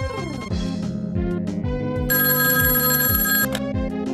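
A cartoon telephone ringing with a loud bright electronic bell over bouncy background music and sliding tones, repeated rings close up, no voices.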